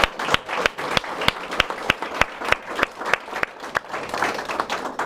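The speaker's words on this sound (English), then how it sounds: "Huge round of applause for this panel." An audience claps for a discussion panel at a community business talk, a lively round of sharp, irregular handclaps from a small crowd lasting several seconds.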